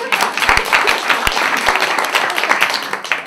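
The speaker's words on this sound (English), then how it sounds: "I thought I was going to have to tell you to applause at this time." Wedding guests applauding in a full, steady wash of clapping with a few sharp individual claps standing out close by, continuous and loud throughout.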